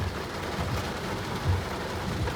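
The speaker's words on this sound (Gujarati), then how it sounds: "કારણ કે વરસાદ જ એટલો હોય" Heavy rain pouring down in a steady roar, with low rumbling thunder rolling underneath throughout the short stretch.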